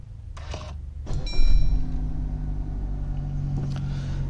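Suzuki Swift GLx CVT hatchback with a 1.2 litre engine starts with a short crank and settles into a steady low idle, heard up close and alone.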